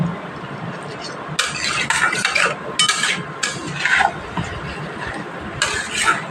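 Vegetarian Bengali panchmishali mixed vegetables with garam masala, cooked without onion or garlic, are stirred in a pan: a run of scraping, rattling strokes in bursts, separated by quieter stretches of low background noise.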